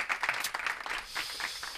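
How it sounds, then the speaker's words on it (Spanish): A short burst of studio-audience clapping on a Spanish comedy show, with irregular, fairly close claps over under two seconds. "Un fuerte aplauso para el sector."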